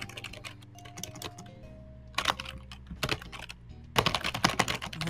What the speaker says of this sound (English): Respectable typing.